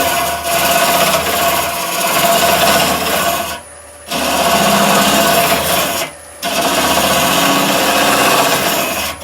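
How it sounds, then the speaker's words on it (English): Steady grinding and rasping of a lathe as a tool turns leaning garlic pots, continuous and loud, briefly dropping away twice before resuming. "if we stop the lathe now"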